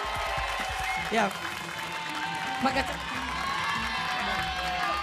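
Studio audience applauds and cheers for a band on a comedy TV show, a steady crowd wash with occasional whoops running under continuous talk.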